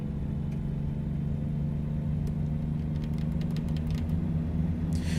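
Steady low rumbling engine drone of a truck in a trucking driving game, continuous and even, with faint clicks toward the end.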